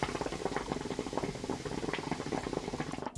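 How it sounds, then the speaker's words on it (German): A Moze Breeze Pro bong without its diffuser gives a close, loud bubbling, a rapid run of gurgling water pops that stops abruptly at the end. "Einmal jetzt ohne Diffusor, das Blubbern."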